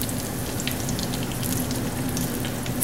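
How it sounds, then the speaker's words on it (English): Pork chops fry in a pan of oil with a dense, steady crackling sizzle, loud and close throughout, with no talk over it. "now I got those pork chops all fried up, but they're not totally done"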